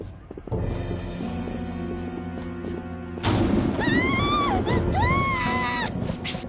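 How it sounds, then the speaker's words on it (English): A loud, wailing scream rings out in the video game Shin Megami Tensei, rising and bending in pitch over a droning background score, following a sudden crash-like burst. "Scream? What was that?"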